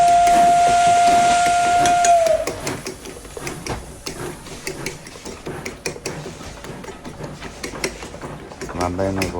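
A train steam whistle sound effect blows a single long, steady shrill note for about two seconds, then gives way to a rhythmic mechanical clatter of wheels and gears that runs on to the end.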